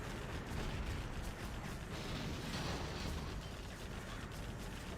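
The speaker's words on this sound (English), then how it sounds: "Massive flame wall now, and inferno cannons for Fargo." Dense, continuous rumble of inferno cannon fire and flame bursts from a C&C Zero Hour battle, steady and loud throughout with overlapping explosive impacts and no clear gaps.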